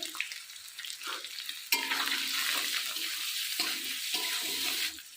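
Shol fish curry bubbles and sizzles in a pot on a village kitchen stove, a steady, close hiss and burble that swells suddenly, holds for a few seconds, then drops away.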